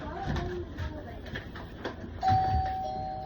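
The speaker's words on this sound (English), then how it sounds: "Stop ringing my doorbell." A home doorbell rings with a sustained tone entering partway through, over ongoing household talk in a kitchen setting.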